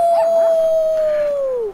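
Characters in Life is Strange 2 howl like wolves, one long sustained howl that slowly falls in pitch, loud and close, with faint overlapping voices underneath.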